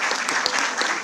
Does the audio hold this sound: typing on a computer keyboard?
no